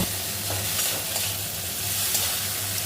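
Taro is stirred into fried poppy seeds in a hot pan, giving a steady, dense sizzle with soft stirring scrapes, close and continuous.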